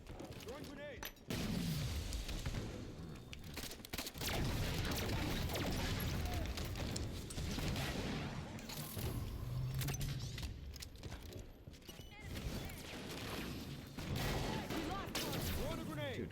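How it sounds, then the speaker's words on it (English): In the Halo video game, a grenade is thrown during a steady, dense barrage of gunfire and booming explosions, loud and continuous, with rumbling blasts layered throughout. "Throwing a grenade"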